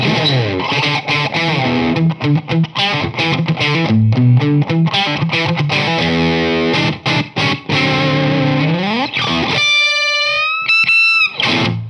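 A hollow-body electric guitar plays a run of notes and chords with a clean tone, ending with a few sliding, bent notes.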